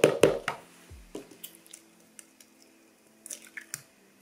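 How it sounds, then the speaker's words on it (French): An egg cracked and dropped into creamed butter and sugar for speculoos cookie dough, a few close wet squelches and taps at the start, then softer scattered clicks and squishes. "Donc maintenant, on va venir ajouter notre œuf."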